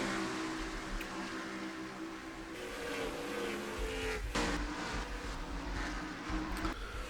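Race cars circling a 1.5-mile oval in a sim racing qualifying session, a continuous loud engine drone with shifting pitch as cars pass, no voices.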